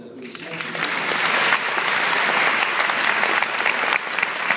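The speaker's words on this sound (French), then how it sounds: "Je pense que ça mérite encore des applaudissements." Theatre audience applauding at the Grand Rex in Paris, steady dense clapping that swells and holds for the whole stretch, loud and close with faint voices mixed in.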